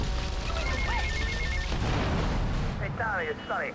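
A burning car explodes in GTA Vice City Definitive Edition, a heavy boom followed by rumbling blast noise with game music and someone talking over it.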